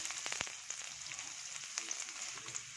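Onion frying in about two tablespoons of hot cooking oil for a shrimp-paste dipping sauce, giving a steady, fairly faint sizzle with a few sharp crackles near the start, alone with no talk.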